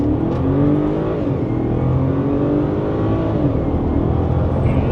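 A 2010 BMW 550i GT accelerates hard, its engine note rising loud and close in a sustained smooth pull with shifting tones, heard from inside with no talk.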